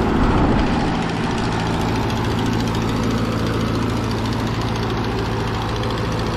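An 80-plus-year-old Ford 9N tractor engine runs steadily with a leaking exhaust on cylinder four, giving a loud, continuous low rumble with a rough, knocking texture and no talk.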